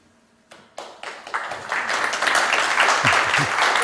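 Applause from an audience at an industry talk starts with a few claps and quickly swells into steady, full clapping.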